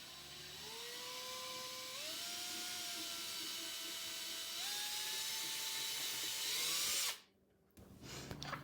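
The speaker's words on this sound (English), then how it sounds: "I'm going to drill the holes on." A power drill bores holes through leather scraps for pocket journals, its motor whining steadily and stepping up in pitch several times before cutting off abruptly, then starting again briefly.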